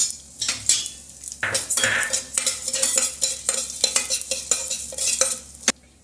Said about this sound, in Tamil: அந்த பாசிப்பயிரை இந்த நெய்யில் நல்லா வறுத்து எடுத்துக்கலாம்.